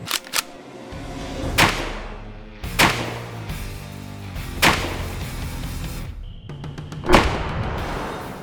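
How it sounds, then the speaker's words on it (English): A 12-gauge semi-automatic shotgun firing Federal sabot slugs into a pumpkin outdoors. Sharp, booming reports ring out several times at irregular intervals, each a sudden crack followed by a brief rumbling decay. "I've got a Federal Sabot Slug that we're going to shoot that pumpkin with."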